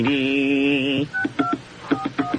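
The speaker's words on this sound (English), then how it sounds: "Nobody answering that all-important Letterman phone." Telephone dialing tones sound: a steady, close dial tone lasts about a second, then a quick run of short, evenly spaced touch-tone beeps follows, with no talk.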